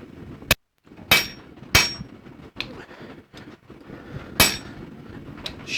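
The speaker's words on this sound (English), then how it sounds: "Forging it, moving it from place to place" A blacksmith forges metal with a hammer, landing sharp, ringing blows at an irregular pace with short pauses in between, close and loud with no talk.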